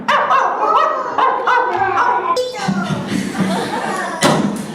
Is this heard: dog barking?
yes